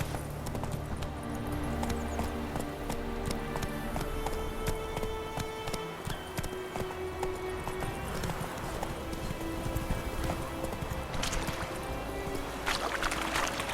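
Roach, a horse in The Witcher 3, gallops with a steady, rapid clip-clop of hooves up close, carrying on throughout under a continuous background bed of game sound.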